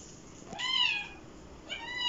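A domestic kitten gives two clear, close meows, the first longer and rising then falling, the second shorter, with quiet pauses around them.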